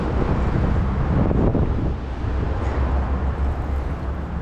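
Wind blows across the open water at a bass fishing spot, a steady, loud rushing buffet against the microphone with a low rumble throughout and no voices.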